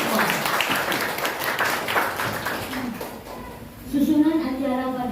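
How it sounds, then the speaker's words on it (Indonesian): Applause from teachers at a school morning gathering, a few seconds of clapping that fades out as a voice begins speaking. "Tepuk tangan buat kita semua."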